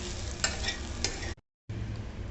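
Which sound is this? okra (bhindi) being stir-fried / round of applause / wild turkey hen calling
okra (bhindi) being stir-fried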